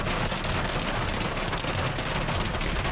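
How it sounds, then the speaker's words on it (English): Hail falls during a storm as a dense, steady hiss of countless small impacts, moderately loud and unbroken, with no voices. "That is not snow, folks. That is hail."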